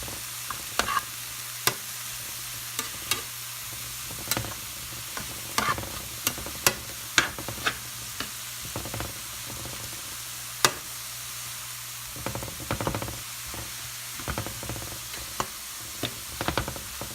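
Sausage and vegetables sizzle steadily in a frying pan while a utensil stirs them, giving sharp scraping clicks and taps at irregular intervals over a constant, close hiss of frying.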